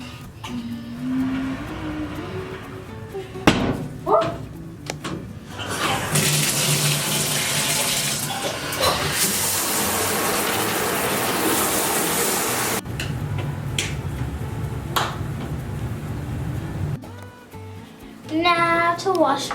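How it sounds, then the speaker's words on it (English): Shower water sprays in a steady, hissing rush for several seconds in a home bathroom, bracketed by quieter handling noises and faint tones before and after. "Now I just need to hop in the shower"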